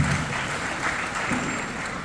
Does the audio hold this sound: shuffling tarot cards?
no